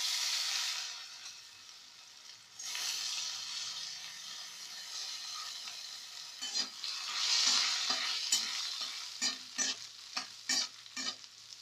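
Urad dal hisses in hot oil for a Kerala-style rava upma, a steady bright sizzle that gives way to rhythmic spoon scrapes stirring the pan.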